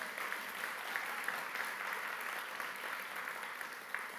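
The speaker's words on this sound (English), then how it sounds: "Connie, can we give a round of applause for Connie?" An audience at a CreativeMornings New York morning talk on visible mending gives a round of applause. The clapping is steady, dense and fairly soft, heard from a distance across the room for about four seconds.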